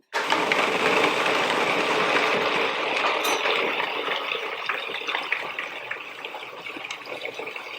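A blender grinds walnuts, cacao powder, salt and dates in a loud, steady whir that starts abruptly and runs continuously, growing slightly rougher and more uneven toward the end.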